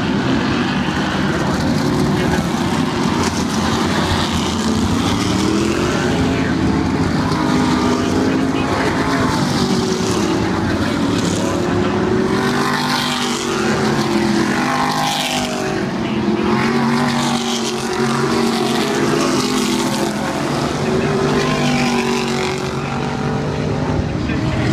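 Race cars lapping a circle track speedway during an 80-lap feature event, a loud continuous engine drone with shifting pitch as cars pass, under an announcer's fast commentary.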